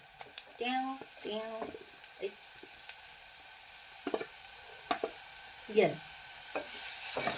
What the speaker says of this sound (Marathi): आता हे मस्त हलवून घ्यायचं